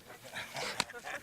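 A large dog pants close by in a small town, quick rhythmic breaths with a brief sharp click partway through, moderately quiet against faint background noise.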